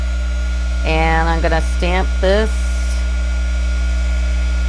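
Heat gun blowing steadily during card embossing, a constant loud droning hum throughout while someone talks over it.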